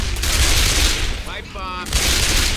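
Rapid gunfire from a Left 4 Dead 2 firefight, dense bursts of shots close up with a brief lull midway, as a voice speaks over the middle.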